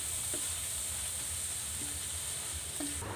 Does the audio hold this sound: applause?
no